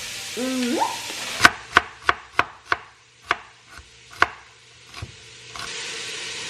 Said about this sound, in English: Wow, you're chopping just like Mama.